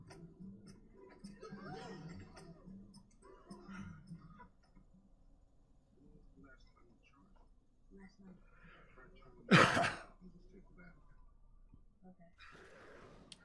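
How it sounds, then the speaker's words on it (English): A single sharp, loud cough bursts out close by, with a second softer one later, amid quiet murmuring speech and faint background noise. "Sorry, I'm coughing."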